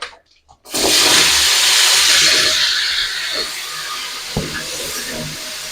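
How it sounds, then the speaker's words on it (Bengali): Cut potatoes dropped into hot oil in a home kitchen burst into a loud, steady sizzle after a brief silence, the crackling hiss easing only slightly, with one small clink near the end. "এবার আমি ওই তেলের মধ্যে দিয়ে দেবো আলু যে কেটে রেখেছিলাম"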